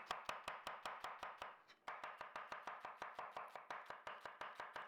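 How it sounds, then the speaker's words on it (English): A knife thinly slices an onion on a cutting board with quick, steady, close-up strokes, about five per second, with a brief pause partway through and no voices. "we're just going to thinly slice the onion"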